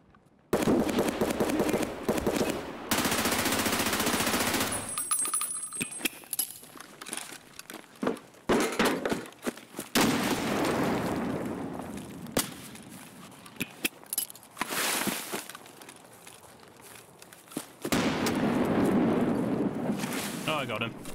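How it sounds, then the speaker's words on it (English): Gunfire in the video game Escape from Tarkov comes as sharp cracks and bursts. The shots land amid loud, busy game noise and wind, with a player talking over parts of it. "Shooting from that angle."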